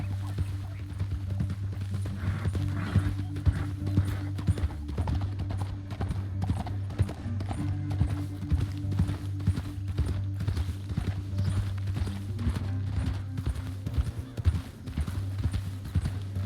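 Rhythmic horse hooves clip-clopping steadily throughout in the video game Red Dead Redemption 2, with a continuous low droning background underneath.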